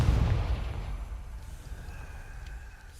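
Confringo blasting spell in Hogwarts Legacy bursts with a loud, deep boom at the start, then a low rumbling tail that slowly fades over a few seconds.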